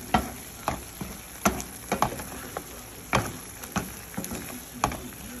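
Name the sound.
food frying in a pan while cooking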